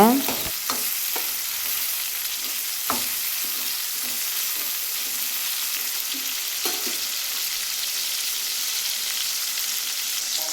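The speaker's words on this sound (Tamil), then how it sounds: "இப்போ கிளறி விட்டுக்கலாம் தக்காளி நல்லா வதங்குற வரைக்கும் நல்லா கிளறி விட்டுக்கோங்க" Tomatoes fry in hot oil for a dry fish curry, a steady close sizzle broken by several scraping stirs of a spoon against the pan.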